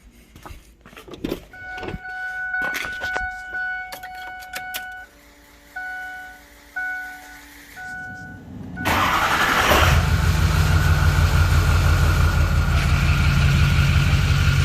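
Clicks and a starter whir lead into a 6.0 Powerstroke diesel truck engine firing up, then a loud, steady rumbling idle that continues to the end.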